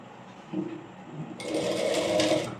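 Sewing machine stitching the shoulder seam of a plain frock, a short soft burst followed by a louder, steady run of rapid stitching, close up with no talk.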